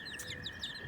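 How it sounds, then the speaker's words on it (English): Small bantam chickens clucking softly, a few brief chirpy clucks close by over a quiet background with no talk. "So there are the chickens."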